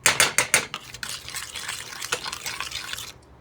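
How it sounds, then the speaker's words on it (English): A spoon stirs coconut cream and sweetened condensed milk in a pot while making boba, starting with several sharp scraping strokes and then settling into softer, continuous swishing and occasional clinks. "you don't have to sit here and stir it the whole 2 hours"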